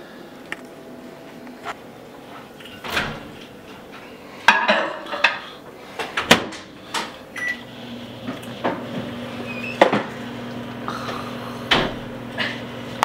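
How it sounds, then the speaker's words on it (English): Plate of layered nachos topped with cheese, chili and salsa is set into a microwave oven in a home kitchen, giving a run of close clunks and dish clatters as the door shuts, followed by a low steady hum. "we're going to take it and put it into the microwave"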